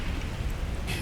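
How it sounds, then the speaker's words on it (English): Steady rain in the video game Fallout 4 pours through holes in a roof in a brief, even wash of patter with no voices. "You got the rain coming right on in."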